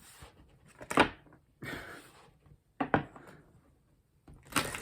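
A deck of tarot cards being shuffled by hand, several short papery riffles and slaps in separate bursts with quiet pauses between, close and fairly soft, no talking.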